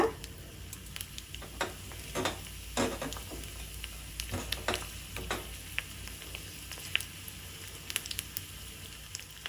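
Mustard seeds, cumin, crushed garlic and curry leaves crackle in hot oil for a chutney tempering, giving a soft, continuous sizzle dotted with irregular pops and spits, close but fairly quiet.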